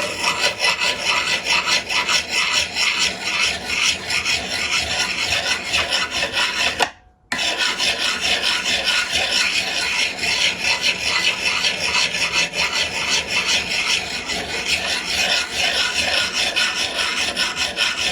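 A diamond file rasps steadily against the edge of a vintage steel axe, a continuous close gritty scraping that stops for a brief moment near the middle and then carries on.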